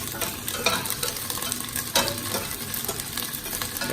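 Green chili drops into onion and ginger frying in a pan, sending up a steady sizzle broken by scraping stirs close by.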